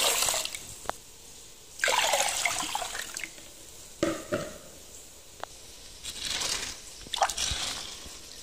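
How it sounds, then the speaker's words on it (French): Rice is washed in water before cooking a Comorian yellow spiced rice, with bursts of swishing, pouring and trickling liquid broken by short pauses and sharp clinks, close and without talk. "Ensuite, je lave le riz."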